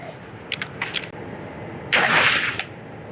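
An FN SCAR rifle fires a single sharp shot outdoors, a loud blast with a short decaying tail, preceded by a few faint metallic clicks of handling.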